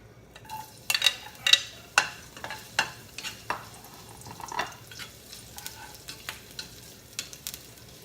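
Garlic fries in a pan at the start of a Filipino Kapampangan home-cooked dish, with a soft sizzle beneath a steady series of sharp scraping and tapping stirs. The sounds are close and there is no talking.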